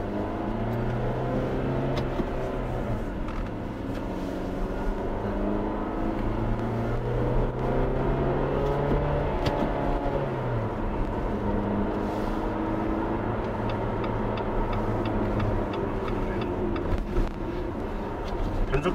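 A car in manual shift mode accelerates through its gears up to fourth and fifth, with engine tones rising and dropping at each smooth upshift under steady road and cabin noise, heard from inside.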